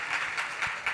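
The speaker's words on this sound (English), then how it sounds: "a round of applause for our amazing judges" An audience applauding judges at a BlogHer18 pitch event, a brief burst of steady clapping heard alone.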